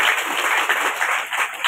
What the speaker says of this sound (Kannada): ಕೇರ್ಫುಲ್ ಚಪ್ಪಾಳೆ ಹೊಡಿಯುವಾಗ